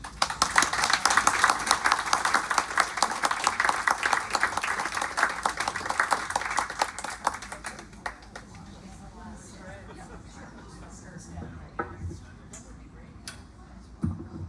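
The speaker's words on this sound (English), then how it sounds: "Let's give Georgia another round of applause" An audience claps after a poetry reading, a dense burst of applause for about eight seconds that thins into scattered, fading claps and a few isolated hand taps.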